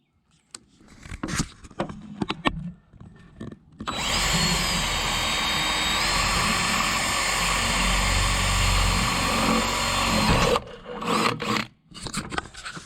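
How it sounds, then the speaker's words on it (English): A power drill bores a hole in a plastic bucket steadily for about six seconds with a high whine and grinding rasp, framed by brief handling clatter before and after. "We're gonna drill a hole to start the saw with."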